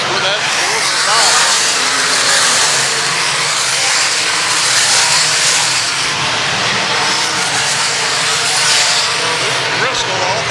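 Race cars roar around the dirt oval at Lakeside Speedway on opening night, a loud continuous engine drone that swells and fades as the field passes, with announcer commentary over the noise.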